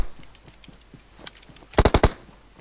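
An M249 machine gun in the mobile game PUBG Mobile fires a quick burst of four loud sharp shots after softer scattered distant gunfire and faint background clatter, with no talking.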